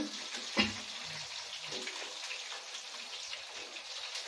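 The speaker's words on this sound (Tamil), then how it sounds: "வெளியே மழை வந்துட்டு இருக்கு குளிரா இருக்கு" Rain falling outdoors on a cold day, a steady soft wash of drops with one brief louder splash near the start and no talking.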